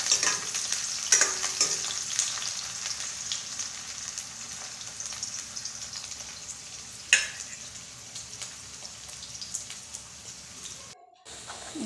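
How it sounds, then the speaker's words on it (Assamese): Garlic and onion fry in hot oil in a pan, a continuous close sizzle with occasional stirring scrapes and a sharper crackle near the end before it cuts out. "এতিয়া মই নহৰু, পিঁয়াজ এনেকৈ দি ভাজি আছোঁ।"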